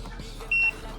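A single short, clear electronic beep from a ring-detecting sensor as a Taiwan racing pigeon's leg band is scanned, sounding once over a faint background hum.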